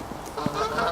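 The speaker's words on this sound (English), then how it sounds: "Geese. Lots of geese." Greylag and Canada geese honking outdoors, a short burst of overlapping nasal honks from several birds at moderate distance, no voices.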